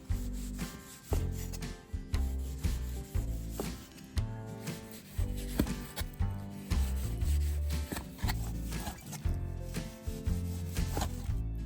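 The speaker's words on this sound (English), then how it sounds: "Cut beef against the grain into thin slices." A knife slicing beef thinly against the grain on a cutting board, a steady, continuous run of close, rhythmic rubbing and scraping strokes with no voices.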